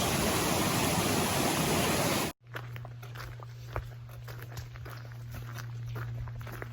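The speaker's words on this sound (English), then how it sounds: "we got a good little water crossing here. Trying to hop these rocks pretty good." Water running over rocks at a trail stream crossing, a steady broadband rush with a low hum, broken by a few soft footstep thumps and scuffs as someone hops across stones; no talk.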